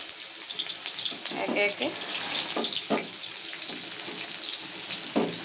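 Onions frying in a pan with black cumin, a continuous hiss and sizzle that holds steady throughout, with a voice speaking briefly over it.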